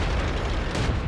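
Tank cannon fire in a video game: one heavy, booming blast with a deep rumble that fills the moment, close and loud, with no talk over it.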